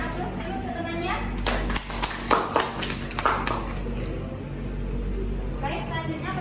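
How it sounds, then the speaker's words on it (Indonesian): Classmates clap in a classroom for a student during a peer-teaching session, a short burst of applause lasting about two seconds with children's voices mixed in over a steady room background. "Berikan aplaus dulu ke temannya."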